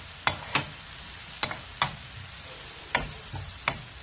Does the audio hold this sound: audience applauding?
no